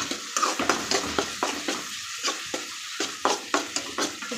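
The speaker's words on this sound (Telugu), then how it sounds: "అనేది కొద్దిగా ఫ్రై అయ్యాక మనం ముందుగా స్మాష్ చేసుకున్న పొటాటో వేసి కలుపుకోవాలి" Mashed potato is stirred into a lightly fried mixture in a pan for panipuri filling, a spoon scraping in quick repeated strokes over a soft sizzle, close and rhythmic with no talk.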